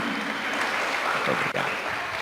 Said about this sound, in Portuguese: Eu mereço uma salva de palmas.